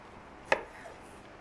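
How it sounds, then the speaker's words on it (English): A knife quartering limes on a cutting board, one sharp close chop followed by a faint softer tap, brief and otherwise quiet with no talking. "I'm just going to quarter them"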